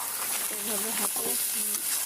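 Food cooking in a pan on a stovetop gives a continuous, fairly loud hiss, with faint voiced murmuring running underneath.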